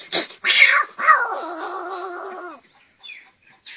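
A voice mimics a cat hissing and yowling at a dog: a sharp hiss, then a drawn-out, wavering meow-like wail that fades out, followed by a faint trailing hiss.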